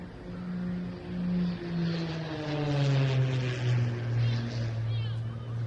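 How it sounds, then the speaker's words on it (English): A Cap 232 aerobatic plane flies at an air show, its propeller engine giving a steady droning hum with a slowly rising and falling pitch as it approaches from the front, heard under a commentator's voice. "the Cap 232 coming in from in front of us"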